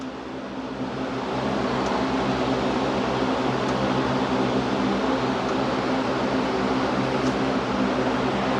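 Steady broadband hiss from a large engine vacuum leak with a low engine rumble underneath, swelling in the first second and then holding constant with no talk.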